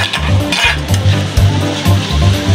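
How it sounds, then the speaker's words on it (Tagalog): Ground meat, chopped cabbage and carrots stirred while they fry in a pan, with steady close sizzling, repeated scraping strokes of a utensil and occasional clinks of cookware. "nagluluto si ate ng ulam"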